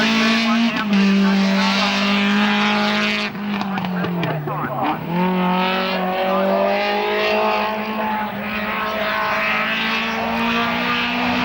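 A race car engine revs and drops in pitch as it warms up at the Collingrove hillclimb during the 1994 Australian Hillclimb Championships, a strong, steady drone heard under a commentator's talk.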